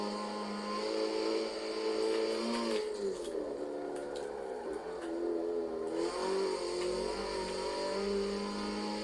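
An Opel Astra H OPC revs in Forza Motorsport 7; the engine note climbs and falls through several gear changes, loud and continuous, with a rougher dip midway.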